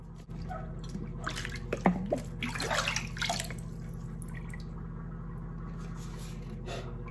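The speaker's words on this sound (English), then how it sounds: "I can hear the water swirling out of this thing now" Water swirls and gurgles down a freshly unclogged drain after a blast of air clears it, with faint drips and trickling that swell briefly and then fade to a quiet hum.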